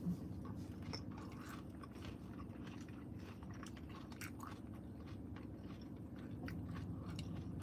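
Quiet, close chewing of crunchy, watery food, with soft irregular crunches and wet clicks over a low steady background hum.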